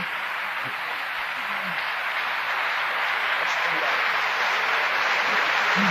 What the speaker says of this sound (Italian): mi spiace dover interrompere questo applauso